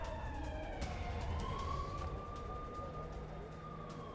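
A siren wails in the distance during a blackout in Srinagar, its tone slowly rising and falling over a steady background rumble.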